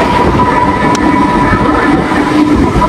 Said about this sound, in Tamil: கிரிண்டல் வேர்ல்டு ரயில்வே ஸ்டேஷன்லாம் இப்போ நின்றுட்டு இருக்கோம்